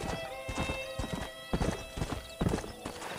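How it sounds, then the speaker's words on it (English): Stallion hoofbeats in the video game Red Dead Redemption: a steady, close clip-clop of galloping hooves over a continuous backdrop of game music, with brief whinny-like accents. "Bonnie, I got you a stallion."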